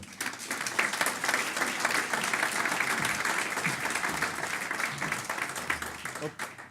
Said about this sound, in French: je vous demande donc d'applaudir Michel Martin qui va nous rejoindre.